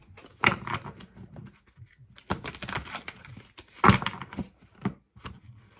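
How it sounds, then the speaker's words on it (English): Tarot card decks being shuffled by hand, giving irregular crisp riffles, slaps and papery clicks in short close bursts with quiet gaps between. "now that all of these decks are shuffled"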